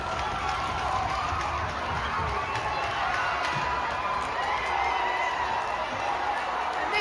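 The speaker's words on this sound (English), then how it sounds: "Crowd is going crazy." An ice hockey crowd roars steadily after the opening goal of a Canal Cup game between Sandwich and Bourne, a dense, sustained wash of cheering and whooping that never breaks for the full stretch.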